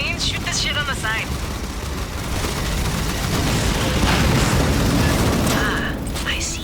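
Gunfire in Aliens: Fireteam Elite as shots hit capacitors on the side, a dense stretch of booming blasts and rapid fire heard up close beneath bursts of voice chatter.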